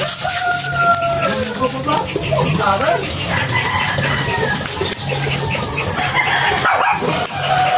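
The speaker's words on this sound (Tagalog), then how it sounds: "Diyan may lumabas na isang aso." A dog barks now and then amid a busy outdoor scene in Bulacan, Philippines, with chickens clucking and people talking nearby.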